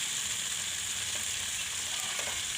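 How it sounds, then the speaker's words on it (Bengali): Cumin, ginger and garlic paste fries in a pan with a constant, fairly quiet sizzling hiss and no pauses. "এখন দিয়ে দিলাম জিরে বাটা দিয়ে দিলাম দেড় চামচ আদা বাটা এক চামচ রসুন বাটা"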